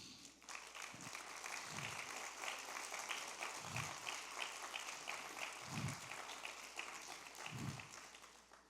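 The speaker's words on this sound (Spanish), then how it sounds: "Le doy un aplauso al Señor." Church congregation applauding during a sermon, a sustained wash of clapping with a few low thumps, fairly faint and even throughout.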